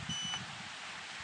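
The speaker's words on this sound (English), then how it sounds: "And that beep means it's working." A single short electronic beep from a Vanpowers Super Power Pro 1500 portable power station as an SP200 solar panel is plugged in, heard once near the start over faint outdoor wind noise.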